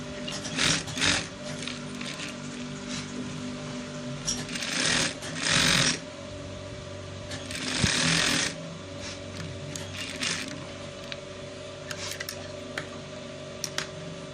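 A sewing machine topstitching rope trouser fabric runs in a continuous rapid needle chatter, close and fairly loud, with short bursts of faster stitching and brief rustling of cloth between passes.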